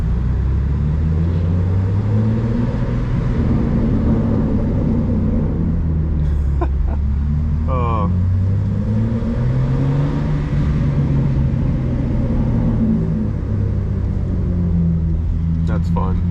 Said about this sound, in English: Listen to these burbles.